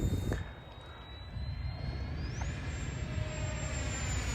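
Model aircraft engine in flight, a faint distant steady whine with a rising pitch sweep partway through, over wind noise and low rumble.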